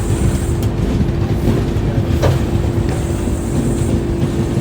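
The non-AC Darshan Express 12494 rolls slowly toward Kalyan Junction. A loud, steady rumble and rattle is heard from inside the carriage, with a faint squeal or two and no voices.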